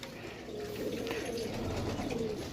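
A steady, low murmur of pigeon cooing from a single-bloodline flock continues unbroken over a hissy background, with no talking.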